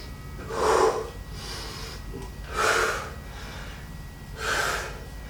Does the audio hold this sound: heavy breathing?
yes